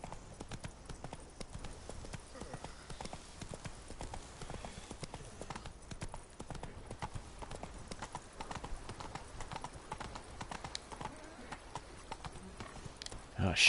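Hooves of the horse Roach in The Witcher 3 clop along in a steady, quick rhythmic trot, moderately loud and continuous throughout, with a faint game soundscape behind.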